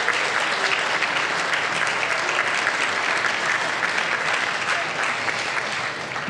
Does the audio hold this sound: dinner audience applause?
yes